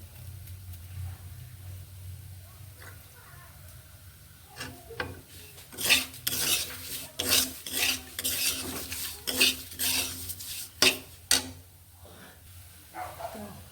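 A spoon scrapes and clatters against a pan while semolina is stirred, a run of sharp metallic strokes, loudest in the middle, over a low steady hum; no talking.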